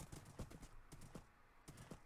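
Quiet, rhythmic clip-clop of a horse's hooves in a video game, a steady run of soft hoofbeats trotting along.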